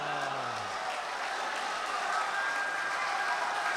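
Steady audience applause fills a mushaira poetry gathering in Doha, Qatar, a dense wash of clapping that holds at an even level throughout without any voices over it.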